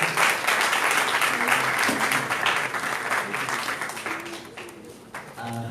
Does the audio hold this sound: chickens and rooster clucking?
no